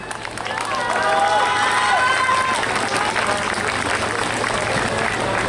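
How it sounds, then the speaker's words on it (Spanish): Applause from the audience at a queen pageant event in Tlaunilolpan, Hidalgo, a dense steady patter that swells in after a quiet start and holds loud and continuous, with voices and crowd noise mixed through it. "Un aplauso, por favor."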